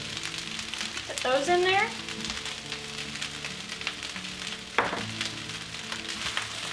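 Green onions hit a hot frying pan of pork fried rice, raising a steady, close crackling sizzle that runs throughout, with brief stirring scrapes and a short spoken phrase early on.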